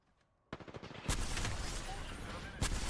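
Rapid bursts of video game shooter gunfire erupt after a quiet start, loud and dense, with brief voice chat mixed in.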